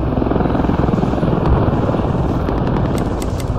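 Enemy helicopter passing overhead in the military shooter game Squad, a loud steady rotor roar that fills the whole clip with constant thumping wash.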